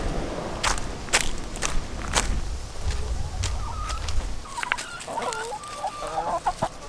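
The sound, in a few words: chickens clucking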